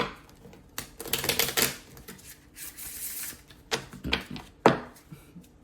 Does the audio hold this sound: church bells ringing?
no